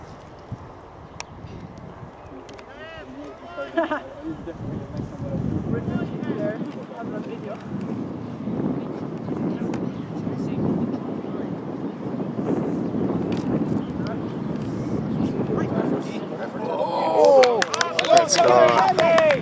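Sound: strong wind blowing across the microphone

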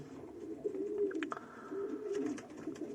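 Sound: pigeon cooing

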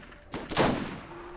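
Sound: gunshot in the video game Borderlands

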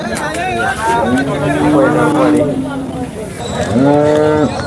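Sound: cows mooing at Sangola cattle market

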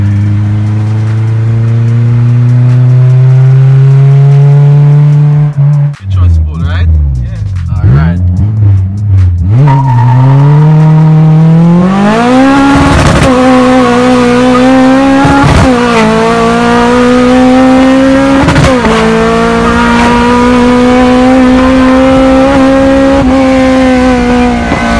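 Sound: race car accelerating on a nitrous pull

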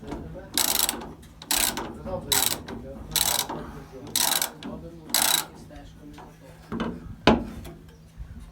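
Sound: tightening nuts on John Deere combine straw walker

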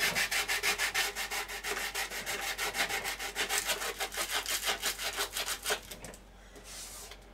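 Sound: hand sanding wood with 80 grit sandpaper

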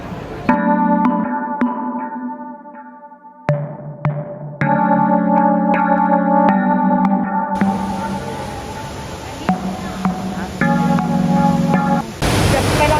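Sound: indoor airport waterfall

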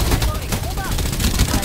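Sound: gunfire in Farlight 84 video game

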